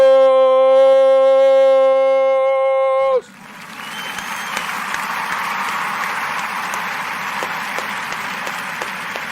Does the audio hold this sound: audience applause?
yes